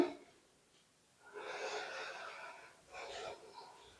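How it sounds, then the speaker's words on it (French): Deep belly breathing during a Pilates workout: two slow, audible breaths, a long airy exhale followed by a shorter one, close and soft, with no talking. "on va respirer dans le ventre ici aussi"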